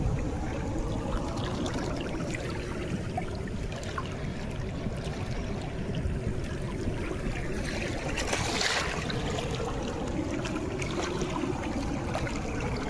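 Fast-flowing river water rushing past at close range, a dense, steady roar of churning current with small splashes and trickles, continuous throughout with no voices.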